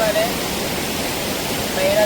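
Arippara waterfall in Kozhikode roars as a constant, dense wash of falling water, with faint brief tonal sounds near the start and end.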